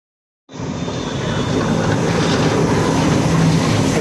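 The Sealdah Rajdhani express train rolls into Kanpur station, starting abruptly as a loud, continuous broadband rumble and rush of wheels and air that holds steady, heard from on board or close by.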